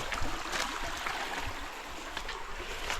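A river stream on a rural farm lot flows with a steady, close rushing wash and bright trickling splashes throughout.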